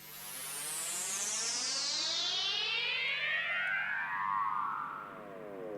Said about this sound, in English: So the downshifter will sound like this.